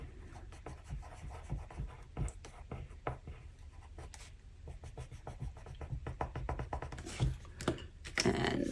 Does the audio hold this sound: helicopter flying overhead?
no